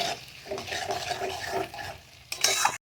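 Eggs being scrambled together with chopped winter vegetables in a pan, with a close, steady scraping and stirring and a soft sizzle, then a brief louder clatter of the spatula near the end.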